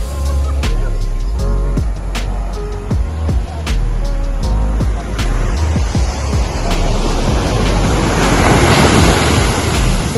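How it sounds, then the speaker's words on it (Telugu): Arabian Sea waves wash loudly and continuously near a seaside restaurant in Kerala, heavy surf rumbling close by and swelling toward the end, with sharp clinks and knocks scattered over it. "సముద్రానికి దగ్గర వచ్చాను చూడండి, అరేబియన్ సీ."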